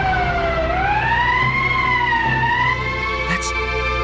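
An emergency siren wails in the Valkyria Chronicles video game, a loud rising and falling tone sweeping slowly over a low engine-like drone, alone without speech.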